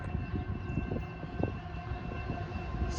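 CSX freight train led by an ET44 locomotive, a loud steady low rumble with sustained droning tones and rolling rail noise, heard alone without talk.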